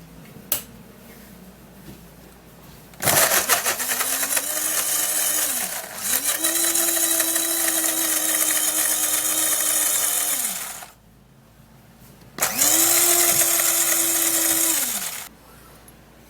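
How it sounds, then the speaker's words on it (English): Blender whirring as it blends skin scrub ingredients, running in two long loud stretches with a brief pause between and a quieter room background before and after. "Now we're going to be getting the blender"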